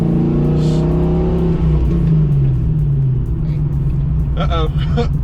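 A Ford Foxbody convertible's engine drones and rises in pitch as it pulls onto the highway, loud and close with steady road and wind noise, while people talk briefly over it.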